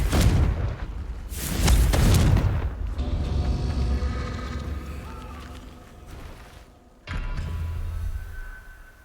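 Confringo blasting spells fired in Hogwarts Legacy make loud booming blasts: a burst at the start, a long roaring one around two seconds, and another sharp blast near seven seconds, with rumbling tails between them.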